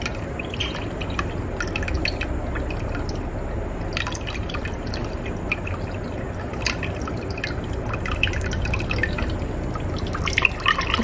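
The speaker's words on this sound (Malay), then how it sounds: "selagi kita rasa halus je di sini ha, kita masih boleh tuang air tu" Water poured off blended fish for laksa through a strainer, a steady close trickling and dripping wash that runs throughout with no talk.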